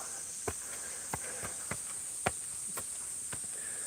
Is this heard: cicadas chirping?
yes